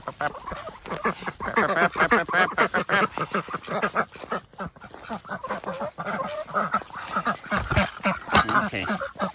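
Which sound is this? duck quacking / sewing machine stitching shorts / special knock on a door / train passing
duck quacking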